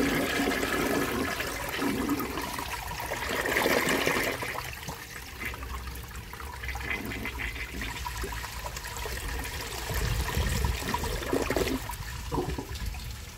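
Water gushes and swirls loudly as a 1966 Nationaline toilet flushes a washcloth, a close roaring flush that eases, then surges again toward the end before settling into trickling refill.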